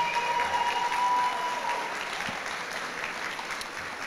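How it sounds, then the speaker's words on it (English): Applause from the audience at a guide dog graduation ceremony, moderately loud and continuous, slowly tapering over a few seconds. "So big, big applause for that."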